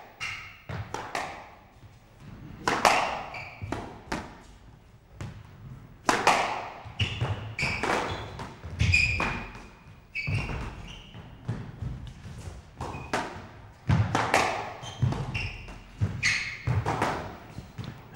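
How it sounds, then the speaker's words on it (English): A squash ball struck against the court walls during a 1992 tournament match in Zurich, sharp irregular smacks and thuds spaced through the rally, with the court's echo and quiet crowd noise between hits. "hitting the ball to the front wall"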